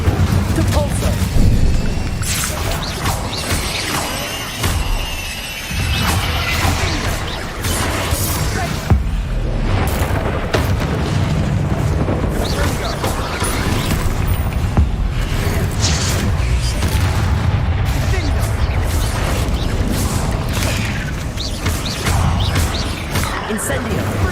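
Spell explosions in the game Hogwarts Legacy, with repeated booms, crashes and whooshing blasts layered over game noise, loud and dense, while a voice keeps calling out spell names throughout.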